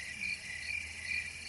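Crickets chirp in the hills at night in a steady, pulsing high trill, moderately faint and heard alone.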